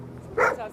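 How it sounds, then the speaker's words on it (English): A dog gives a single short bark or yip at mid distance, close behind low background noise, during a tense search by American military personnel in Afghanistan. "better watch that dog or I'm gonna kill him if it tries to bite me"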